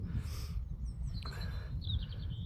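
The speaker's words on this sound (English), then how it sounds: "Listen to that bird song." Wild birds sing faintly in open countryside near the Ringsbury Camp neolithic hillfort in Wiltshire, with a few thin whistled chirps and short trills over a low background rumble.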